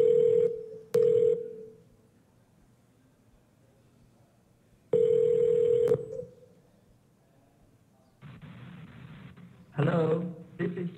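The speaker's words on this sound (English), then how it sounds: "It's ringing." A steady electronic ringback tone from a phone call over a virtual IMS network sounds in two long pulses separated by silence, followed by a burst of faint voices toward the end.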